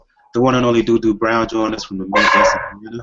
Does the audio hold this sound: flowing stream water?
no